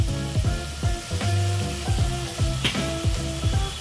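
Ground mustard and green chilli paste frying in a pan with water added, a steady sizzle with rhythmic scraping stirs, close and unbroken.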